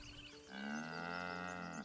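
An ox in the Baldur's Gate 3 video game gives one long, close, sustained moo lasting under two seconds, clear and alone.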